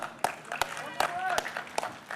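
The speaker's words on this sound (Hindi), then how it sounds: "एक बार जोरदार तालियां" An audience claps in sharp, spaced bursts as Anil Kapoor takes the stage at the Bigg Boss OTT Season 3 premiere, the claps sounding under an ongoing voice.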